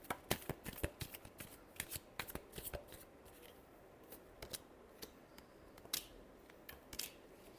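Tarot cards being shuffled by hand at close range, a run of crisp riffling flutters and soft slaps in uneven bursts with short pauses between, no speech.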